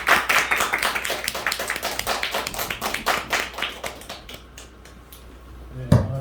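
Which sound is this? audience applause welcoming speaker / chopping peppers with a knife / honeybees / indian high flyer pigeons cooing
audience applause welcoming speaker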